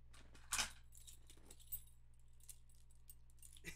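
A keyring holding a house key and a mail key jangles faintly, with a few sharper metallic clinks among soft rustling handling noise, close but quiet, with no speech.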